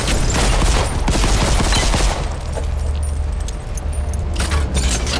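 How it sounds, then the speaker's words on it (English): Penetrator-style nail gun firing in the shooter Selaco, a rapid, dense burst of loud mechanical shots over game ambience, pausing briefly before another flurry near the end. "This is a nail gun just like the Penetrator in the original F.E.A.R."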